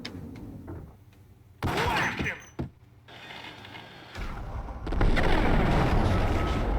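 Gunfire during a shootout in the video game Max Payne, with loud broadband bursts at intervals over a low rumbling backdrop and a sustained heavy roar toward the end.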